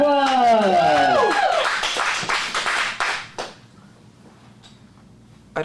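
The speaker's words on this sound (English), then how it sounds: "Big round of applause." A small audience at an adult comedic acting showcase claps briefly after a loud voice rings out over the start; the scattered clapping thins out within a few seconds into near quiet.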